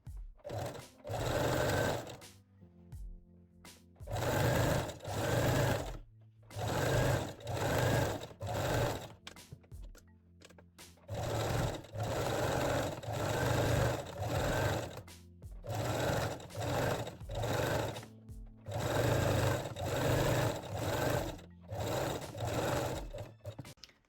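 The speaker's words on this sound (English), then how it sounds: "You can use a zigzag or 3-step zigzag stitch. And gently stretch the elastic as you sew." A sewing machine zigzag stitches fold-over elastic onto the leg openings of low-rise panties, running in loud close bursts of rapid stitching separated by short pauses, alone without talk.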